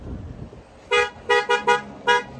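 A passing car sounds its horn in a street: five short, loud honks in a quick uneven burst, the middle three close together and a last one after a pause, over low traffic rumble.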